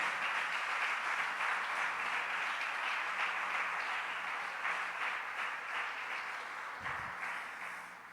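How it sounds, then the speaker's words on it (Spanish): A church congregation applauds during a sermon, with a broad, even wash of clapping that sounds somewhat distant and fades a little toward the end. "Denle un aplauso a Dios"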